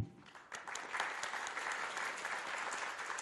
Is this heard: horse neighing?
no